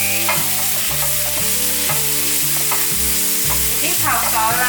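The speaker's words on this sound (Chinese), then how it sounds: "把调味料炒匀" Shiitake mushrooms stir-fried in a wok with rose salt and pepper, a spatula scraping and tossing in steady repeated strokes over a continuous loud sizzle of frying.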